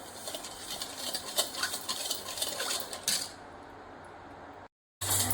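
A spoon mixes cardamom and nutmeg powder into a kharvas mixture, clinking and scraping against the metal vessel in an irregular rhythm before a brief pause and one more clink.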